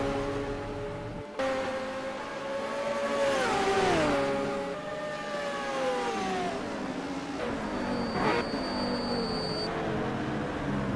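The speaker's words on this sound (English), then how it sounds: "the 2 Bow Repairs cars, the Holden Commodore and the Nissan Skyline" Holden Commodore and Nissan Skyline touring cars in a racing sim at Laguna Seca roar close by, engines revving and dropping in pitch through gear changes, with a steady drone throughout.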